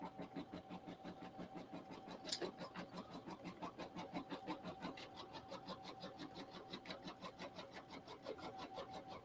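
An embroidery sewing machine runs a triple stitch on a striped handbag, a fast, even mechanical chatter with rapid needle strokes that goes on steadily throughout at close range.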